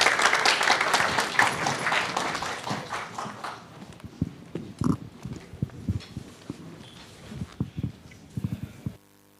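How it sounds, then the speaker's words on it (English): Audience applause for a session host, starting as loud, dense clapping that thins after a few seconds into scattered individual claps and small knocks before stopping. "A round of applause for Mr."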